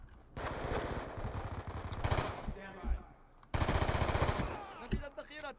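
Automatic gunfire from a gun in a video game rattles in two loud, rapid bursts, with brief gaps and scattered extra shots between them, heard close and alone.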